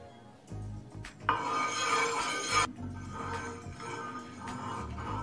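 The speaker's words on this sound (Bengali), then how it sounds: "তেলটা ভালোভাবে স্প্রেড করে নিলাম।" Oil being spread around a pan before making vegetable patishapta pitha, giving a steady close metallic scraping and rubbing that swells loudly for about a second in the middle, with faint clinks throughout.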